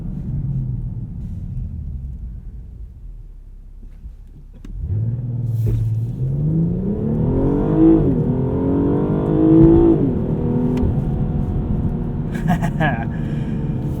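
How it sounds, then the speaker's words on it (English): A 2020 BMW 840i xDrive Gran Coupe's inline-six launches hard from a standstill: a low idle rumble swells into a loud, rising roar through rapid gear changes, heard from inside the cabin. "Let's do a little launch control start here."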